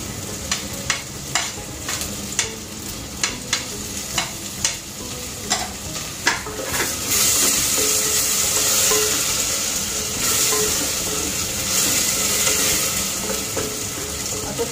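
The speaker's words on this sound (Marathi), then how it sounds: "आता कांदा चांगला परतला गेलाय, त्यामध्ये घालूया आपण आता टोमॅटो" Chopped onion sautéing in a pan with tomato added partway for a spiced soybean pulao: spoon taps and scrapes for the first seconds, then a steady, louder sizzle of frying that carries on to the end, with no voices.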